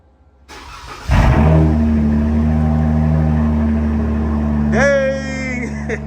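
A Chrysler 300 cranks and fires up cold inside a garage, a sharp catch followed by a loud, steady idle roar close by, with a rising whine near the end and voices talking faintly.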